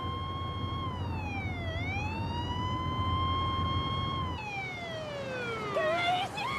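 A wailing ambulance siren sweeps steadily up and down in clear harmonic tones, loud and close over low road rumble, then its pitch bends downward as the vehicle pulls away slowly.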